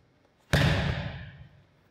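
A medicine ball thrown in a one-step lacrosse-style toss lands with a single sharp, heavy thud, then a short decaying rumble, close and alone.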